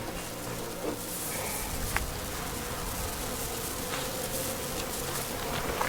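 Bees hum steadily around an open backyard beehive as its cover goes back on, a dense, continuous drone close by with a few individual insects buzzing past, and no talking.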